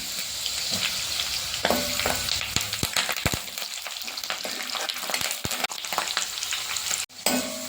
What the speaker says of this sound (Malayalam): ആവശ്യത്തിന് കറിവേപ്പിലയും കൂടി ചേർത്ത് നമുക്കിതൊന്ന് നന്നായിട്ട് വഴറ്റിയെടുക്കാം